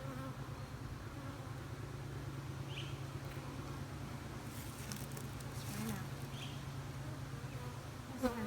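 Honey bees buzzing around an open hive being split by a novice beekeeper, a dense steady low drone close by with faint outdoor background.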